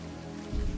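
Rain falling steadily in the video game Unavowed, a soft continuous hiss with a heavier low rumble swelling near the end.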